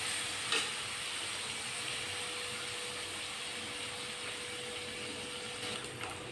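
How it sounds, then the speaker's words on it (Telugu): Prawns frying in a pan, a steady, even sizzle with faint crackles and a few soft pops, moderately quiet, with no talk. "ఇప్పుడు రొయ్యలు చిట్టచిట్టలాడి పైన పడేటట్టుగా టపాటప మోగుతూ ఉంటాయండి."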